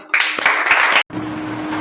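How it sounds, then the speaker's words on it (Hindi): Brief classroom applause in a school lesson session, a short burst of clapping lasting under a second before cutting off, followed by a quieter room with a low hum. "ओके, तालियां हो जाए।"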